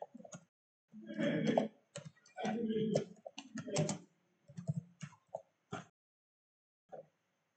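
Someone types a command into a terminal on a computer keyboard in quick, close bursts of clicky keystrokes with short pauses, ending with a few isolated key taps.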